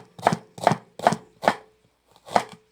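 A knife chops through an onion on a cutting board in five crisp, evenly spaced strokes, with a short pause before the last cut; close and clear, no talking.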